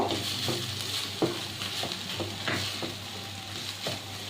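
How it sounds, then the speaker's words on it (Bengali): Mocha ghonto, banana flower with prawns, is stirred with garam masala powder in a pan, giving rhythmic scraping strokes over a low sizzle and a faint steady hum, without speech. "গরম মশলা গুঁড়ো দিয়ে দেবো। ভালোভাবে নাড়িয়ে নেব"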